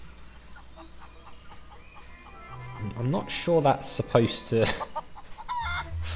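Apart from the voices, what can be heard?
feral chickens clucking in the video game The Curse of Monkey Island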